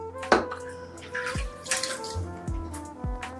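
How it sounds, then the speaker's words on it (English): A safety razor is dunked and swished in water nearby, giving a run of splashes, sloshes and clinks against the basin with short drips between them and no speech. "I just dunk it in the water just for a bit. Swish it around."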